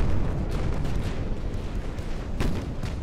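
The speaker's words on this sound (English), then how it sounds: "Look at these broadsides." Warship broadside gunfire from Ultimate Admiral: Dreadnoughts, a dense rumbling wall of heavy naval guns booming together, with sharper blasts punching through a continuous low roar.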